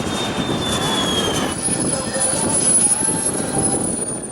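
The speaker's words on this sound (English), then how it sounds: "a jet aircraft, particularly these model jets, they're designed to go fast anyway" A model jet aircraft at a windy air show, limited to about 200 mph, streaks past with a loud, continuous turbine roar and a high whine that slowly bends in pitch, dense and close throughout.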